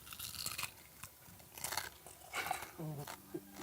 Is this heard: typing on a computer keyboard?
no